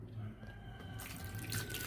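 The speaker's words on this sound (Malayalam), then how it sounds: "ഇതിലേക്ക് ഇനി വെള്ളം ഒഴിച്ചു കൊടുക്കാം." Water poured into a bowl of onions being washed in a home kitchen, a short running, splashing pour with faint drips, close up and without speech.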